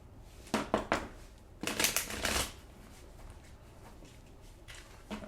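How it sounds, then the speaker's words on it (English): A deck of playing cards is shuffled in a few quick riffling bursts, close and fairly quiet, with brief pauses between them and a quiet room tone afterward. "I'm gonna do a little bit more shuffling, a couple more shuffles."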